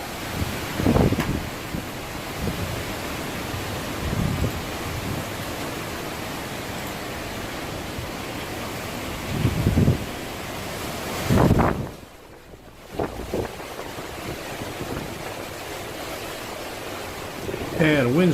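Wind blowing ahead of Hurricane Justin, a steady outdoor roar with surf-like rushing and gusts buffeting the microphone, with brief bursts of voices.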